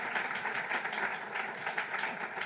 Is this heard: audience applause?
yes